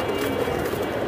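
Flying pigeons of the Giribaz and Pankhi breeds murmur at a pigeon farm, a low continuous cooing of several birds heard up close without speech.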